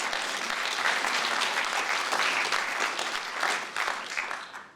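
Audience at a university lecture on climate journalism breaks into sustained applause, a dense even wash of clapping that holds steady and begins to thin near the end.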